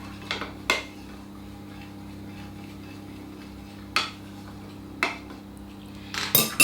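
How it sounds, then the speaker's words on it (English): A spoon stirs passion fruit juice with lime juice in a glass container, giving a few sharp, close metallic clinks spaced apart, then a quick cluster of taps at the end over a quiet background hum. "mix it with our lime juice. Like so. Give it a whiz around."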